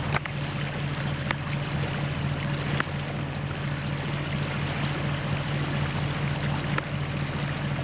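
A motoring sailboat's bow chuckles through calm water on the way into Longhope, Orkney, on a windless day: a steady, close wash of rushing, gurgling water over a low engine hum, with no talk.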